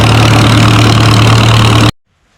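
Car engine idling loud and close with a steady low drone, then it cuts off abruptly into near silence.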